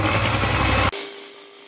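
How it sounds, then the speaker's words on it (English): Electric mixer whisking cupcake frosting on low speed, a steady motor whir that stops abruptly partway through, leaving a faint hum. "So I'm just going to add a half cup to begin with and whisk on the low speed."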